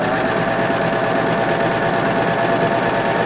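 A Babylock serger sewing a wave stitch runs at a fast, steady whir, close and continuous without pause or voices.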